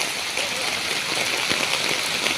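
Heavy rain from Typhoon Marce pours on a street at night, a steady dense hiss of drops on surfaces filling the whole moment with no voices.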